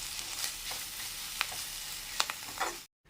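Curry leaves with dried and green chillies sautéing in a pan for a chutney, a close, steady crackle and sizzle with a few sharp pops and stirring scrapes, ending in a brief cut.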